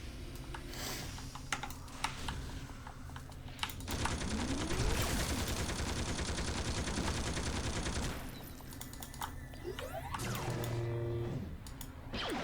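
Rapid gunfire from a villain character in a video game, a dense sustained volley of shots lasting several seconds amid game noise and scattered clicks.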